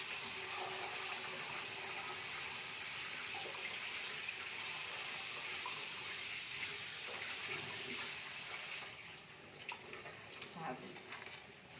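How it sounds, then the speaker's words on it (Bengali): Tap water runs steadily while leafy greens are washed, a continuous close hiss that cuts off near the end, with someone speaking over it. "ধুয়ে নিয়েছি, এই যে ধুয়ে নিয়েছি, জলটা নিগড়ে যাক।"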